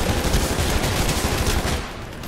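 A smart pistol fires in the Titanfall video game, giving a loud, dense burst of rapid shots that lasts about two seconds before cutting off.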